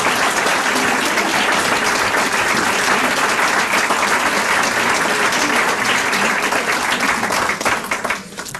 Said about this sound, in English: Well, I didn't want to stop the clapping.